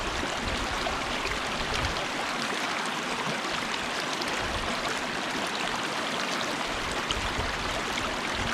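Wild ramps (leeks) being rinsed in a river, with steady, fairly loud rushing and bubbling of flowing water continuing evenly throughout, no voices.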